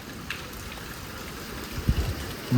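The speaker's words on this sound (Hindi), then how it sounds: "अब धूप भी चली गई और कड़ाके की हवा और तेज बारिश हो रही है" Steady rain hisses across the whole stretch with a broad windy roar, a few louder low gusts or thumps near the end.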